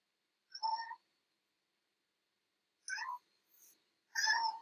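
A looped cat meow sample plays back in Ableton Live: three distinct meows in a row, the first alone, then a short gap before two more close together, moderately loud and clear with no talking.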